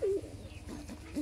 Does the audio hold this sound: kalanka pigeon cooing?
yes